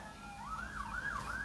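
An ambulance siren passes outside, its wailing tone rising and falling in quick sweeps, distant and muffled over low traffic rumble.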